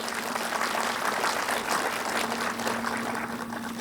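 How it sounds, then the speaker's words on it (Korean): Crowd applause at an outdoor agricultural event in Gyeongbuk, steady dense clapping sustained throughout with a constant low hum beneath. "홍인식 회장님께도 힘내라고 박수 한번 해주시기 바랍니다."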